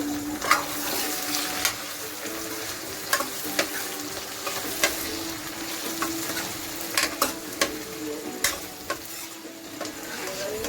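Potatoes sizzle and fry steadily in a pan while cooking for kadhi, with scattered sharp clicks of stirring against the pan throughout and no talk.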